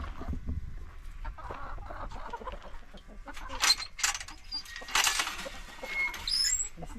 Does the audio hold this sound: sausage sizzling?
no